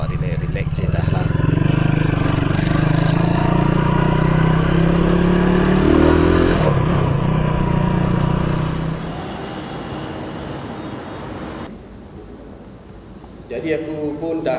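A Benelli Leoncino 250 motorcycle on a test ride, its engine droning steadily and loudly for most of the ride before easing off to a quieter hum near the end.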